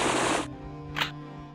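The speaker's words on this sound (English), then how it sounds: "I hear Kurisu and Daru screaming at the gunfire" Gunfire in the visual novel game Steins;Gate: a harsh burst of shots cuts off into a low tonal hum, followed by a second short, sharp blast.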